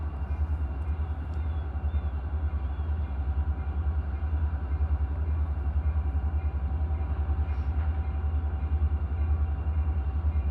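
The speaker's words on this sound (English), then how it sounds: "Here comes the train." Freight train with newer locomotives approaching a protected railroad crossing, a loud continuous low rumble with rhythmic pulsing of wheels and cars, steady and close.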